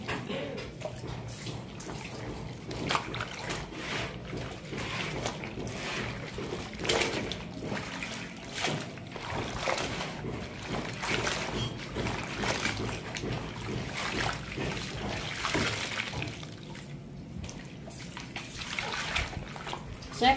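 Clothes being hand washed and scrubbed in soapy water, with continuous sloshing, splashing and rubbing close by, while someone talks over it.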